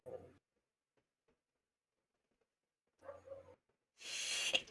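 A single sneeze bursts out near the end, loud and close, following two short stretches of murmured voices separated by near-silence.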